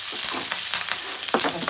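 Green chilies, pepper and dried red chilies sizzle hard in hot oil for an Andhra-style curd rice tempering, a dense steady frying hiss with faint stirring scrapes, close and loud.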